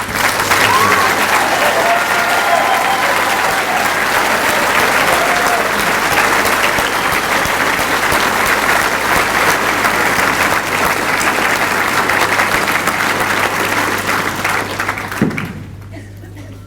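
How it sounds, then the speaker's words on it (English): Sustained, loud applause from a large audience for graduates at a conferring ceremony, dense continuous clapping that fills the hall for about fifteen seconds before quickly dying away. "So at this point I'd like to give a round of applause to all the graduates"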